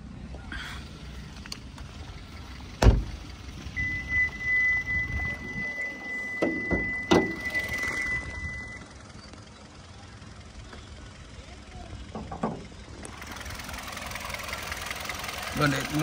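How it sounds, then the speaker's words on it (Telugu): A Hyundai Verna SX 1.6 top-end sedan's engine idles with the bonnet open, a low steady hum running beneath people talking nearby. "వెహికల్ ఆన్లోనే ఉందండి"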